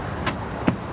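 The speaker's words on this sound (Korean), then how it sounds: "매미소리." Cicadas drone in a continuous high, shrill buzz at a seaside park at dusk, steady and fairly loud throughout, broken by two brief soft knocks nearby.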